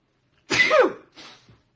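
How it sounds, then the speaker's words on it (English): A single sharp sneeze bursts out close by, followed by a short, softer exhale or sniff. "Why am I sneezing?"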